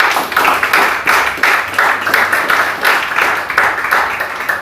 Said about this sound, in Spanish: Dile un aplauso al Señor.